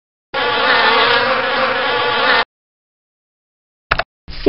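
Cartoon-style bee buzzing from the Bailey's Book House letter game, a loud, steady insect drone lasting about two seconds, followed after silence by two short clipped bursts.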